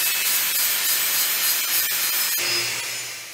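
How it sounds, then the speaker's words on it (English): A Norton Vulcan flap disc, grit 60, grinding a steel chimney pipe to remove burrs and excess stock: a continuous harsh, hissing abrasive rasp, close and steady, easing off slightly near the end. "For the chimney, I'm using the Norton Vulcan flat disc, again in grit 60, to tidy the pipe and remove excess stock and burrs."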